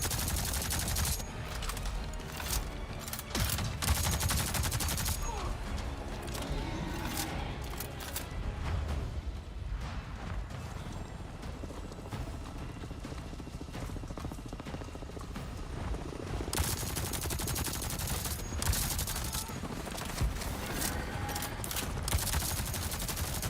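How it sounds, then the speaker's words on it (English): Assault rifle gunfire in Avatar: Frontiers of Pandora, sustained rapid bursts of loud, crackling automatic shots over a dense droning battle din, easing briefly midway before intensifying again. "I hate using my assault rifle against infantry."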